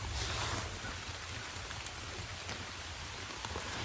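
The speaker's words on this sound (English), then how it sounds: "The rain is starting to pick up" Steady rain falls at night in the woods, a dense, continuous patter of drops on surrounding surfaces with a low rumble underneath, holding at an even, fairly loud level throughout.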